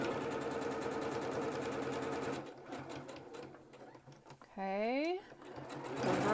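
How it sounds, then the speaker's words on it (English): A sewing machine stitches close to the edge of a fabric mask, a steady close whirring run that stops partway, followed by a short rising mechanical whine; a voice speaks briefly. "now I'm going to sew pretty close to the edge, about a 1/16"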